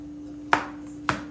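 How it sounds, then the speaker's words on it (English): Two crisp knife chops land about half a second apart on a cutting board as mushrooms are finely chopped, close by, with a steady low hum underneath and no talking. "I'm just chopping these up."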